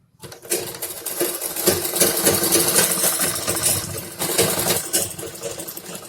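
An electric sewing machine runs steadily, stitching a seam on the waistband of a patiala salwar, with a loud continuous motor whir and a brief dip partway through.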